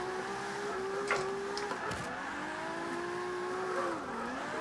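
A Toyota Supra in Forza 5 accelerates hard, its engine note rising and holding loud and steady, dipping briefly between gears before climbing again, close and continuous with no talk.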